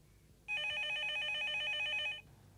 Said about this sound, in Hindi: फोन उठाओ, शाबाश, जल्दी।